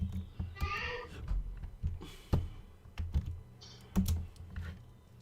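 Computer keyboard typing in bursts of clicks, close and moderately loud, with a man muttering briefly between keystrokes.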